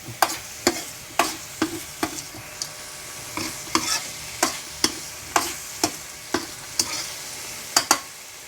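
Chicken stir-frying in a pan, with a steady run of sharp spatula scrapes and clacks about every half second over a soft sizzle. No one speaks.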